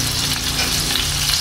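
Crushed red chilies frying in hot oil for a spicy chhole, a close, continuous sizzle with stirring scrapes in the pan and no voices.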